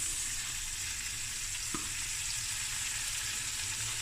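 Peppers frying lightly in a pan, a steady close sizzle with soft hiss throughout and one brief click of a utensil partway through.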